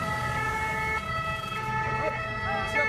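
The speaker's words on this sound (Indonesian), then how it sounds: "Sesaat kemudian, ambulans lalu lalang mengevakuasi para korban tewas." Ambulance sirens wail in Paris as emergency vehicles shuttle back and forth evacuating shooting victims, steady and fairly close, with road traffic in the background.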